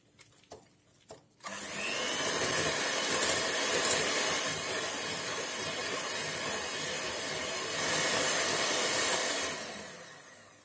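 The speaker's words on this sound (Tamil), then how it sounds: "இந்த நெய்யும் சுகரையும் சேர்த்து நல்லா பீட் பண்ணிடலாம்." An electric beater whirs steadily as it creams ghee and sugar for a Kerala bakery-style ghee cake, starting after a few light knocks and running loud and continuous with a slight surge near the end.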